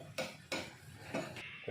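A utensil scrapes and clinks around a pot of thickened sugar and crushed herbs in four separate stirring strokes, close by, with short quiet gaps between them.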